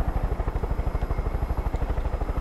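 Helicopter in the Far Cry 5 video game, a steady rapid rotor chop with a low thumping pulse, loud and close, continuing without any talk.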